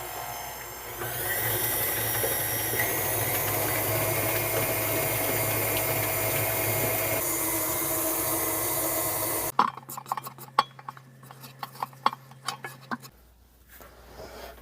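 Gluten-free banana bread batter blended with an electric mixer, a steady close whirring drone for about nine seconds, then scraping and clinking of utensils against the bowl, with no talking.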